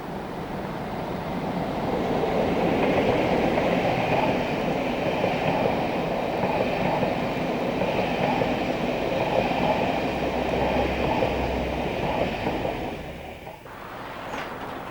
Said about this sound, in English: Bristol also sees plenty of 47 hauled cross-country services.